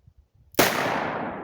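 A single loud gunshot from a hand cannon fired at a ballistic pillow target, a sharp close blast after a moment of near silence, then a long ringing decay.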